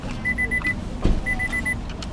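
A car locked with a remote key fob, two short runs of quick chirping beeps separated by a dull thud, faint against outdoor background noise.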